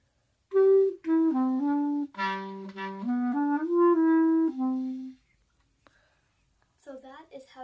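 A clarinet plays the simple, bouncy Peppa Pig theme melody in clear sustained notes for about five seconds, then stops; a short breathy sound follows near the end.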